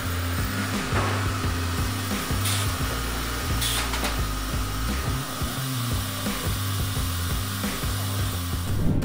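A modern automatic wood peeling machine processes logs with a continuous loud mechanical whir and droning hum, steady with slight rhythmic pulsing throughout.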